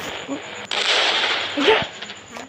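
Bursts of gunfire in the mobile game India Bike Driving 3D, zombie apocalypse mode, crackle over a dense noisy background, with brief voices speaking in between.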